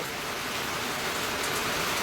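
Heavy rain pours down in a steady, dense hiss that fills the whole moment, close and loud, with no voices.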